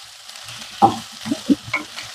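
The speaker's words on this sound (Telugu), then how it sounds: "ఆలుగడ్డ కొంచెం సేపు వేగితే సరిపోతుందండి" Potatoes fry in a pan over high flame while being stirred, giving a soft background sizzle broken by several brief scraping stirs.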